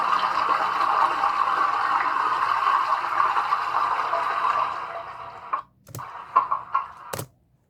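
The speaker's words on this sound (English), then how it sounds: "toilet flushing." A toilet flushing, a loud rushing gush of water that fades out, followed by a few separate knocks and clunks before silence, played as a sound to guess.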